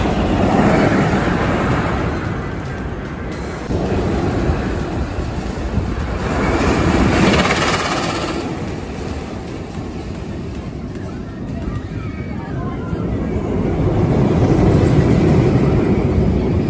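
Magnum XL 200 roller coaster at Cedar Point, a continuous loud broadband roar of the train on its track with rising and falling swells, rushing wind and muffled rider voices mixed in throughout.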